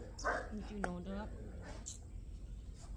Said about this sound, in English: So if you hear barking, if you hear dogs running in